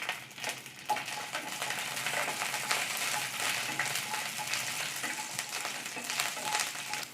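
Green chillies with cinnamon and cloves fry in hot oil for vegetable pulao, giving a steady close crackling sizzle with occasional soft stirring scrapes and no talk.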